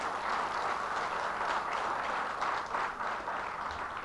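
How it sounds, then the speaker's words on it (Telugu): A union meeting audience claps continuously: dense, steady applause filling the room at an even level for the full stretch, with no voices above it. "చప్పట్లు కొట్టాలి మనం."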